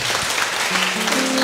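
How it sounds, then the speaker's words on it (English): Congregation clapping at a prophetic church service, a steady wash of applause filling the room for a moment, with a voice faintly rising toward the end. "If you want to clap, you clap for Jesus"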